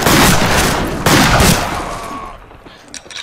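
Sawn-off shotgun blasts in the Fistful of Frags western shooter, two loud close booming shots about a second apart, each decaying into a rough echo, followed by quieter clatter.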